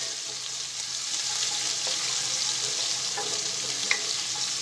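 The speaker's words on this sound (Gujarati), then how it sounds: "એક મિનિટ મરચાં અને આદુને સાંતળી લઈશું" Grated ginger and chopped green chillies sautéing in a pan of oil, a steady bright sizzle with faint clicks of stirring, alone and unbroken.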